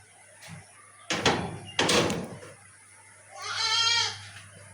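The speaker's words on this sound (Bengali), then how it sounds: "এই আমি আসছি ছাগল দেখতে" Goats on a warm farm, mostly lying down under the lights: two loud knocks or clatters come first, then a single wavering goat bleat follows near the end.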